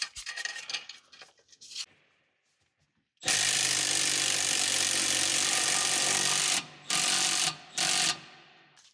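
A new locking nut being tightened onto the stud of a semi truck air bag: a loud, steady mechanical ratcheting whir of about three seconds, then two short bursts, after some quieter clinks and handling noise. No one talks.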